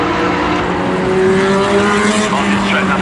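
Pre-1961 sports cars race past under a bridge on a circuit, a loud sustained engine roar with rising tones as they pass, under a commentator's voice.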